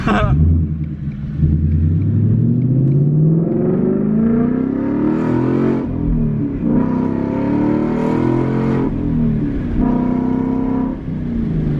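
A 2021 Ford Mustang GT with an X-pipe exhaust revs in rising and falling bursts, loud and close, its rumbling engine note climbing several times; a voice talks over it at times.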